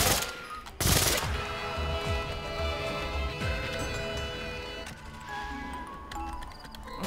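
PPSh submachine gun firing in a Call of Duty zombies match on a custom map, with rapid bursts of loud, sharp shots layered over busy game noise and music.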